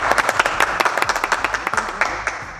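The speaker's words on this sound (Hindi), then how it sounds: "तालियां बजे इस चीज के लिए।" A small group claps briskly, with sharp, distinct hand claps in a quick uneven rhythm that keeps going for a few seconds close to the listener.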